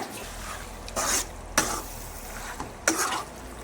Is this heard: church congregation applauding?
no